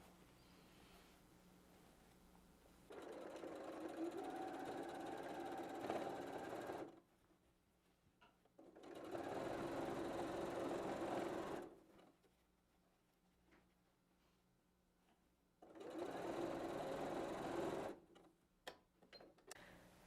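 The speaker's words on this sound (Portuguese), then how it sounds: "eu removi a mesa extensora da minha máquina e aí eu vou encaixar a nossa bolsa aqui para ir costurando bem tranquilamente a volta inteira" A domestic sewing machine stitches a tubular seam around a fabric bag with its extension table removed, three steady bursts of rapid whirring stitching, each a few seconds long, separated by quiet pauses and small handling clicks.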